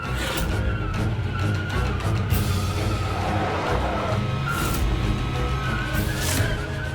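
A car drives steadily under a constant engine and road roar, with a tire skid or squeal rising briefly partway through, dense and close, with no voices.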